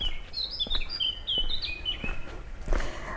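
Several birds chirp and tweet in quick, high bursts, fairly close, over a quiet outdoor background in a city park in Yalta, Crimea.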